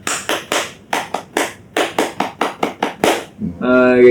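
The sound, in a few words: scout clap (tepuk pramuka), rhythmic group clapping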